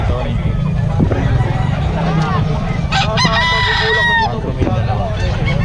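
A fighting cock for sale crows loudly and close at a Philippine poultry seller's place, several rising, drawn-out calls and some clucking over a busy hum of people chatting nearby and passing traffic.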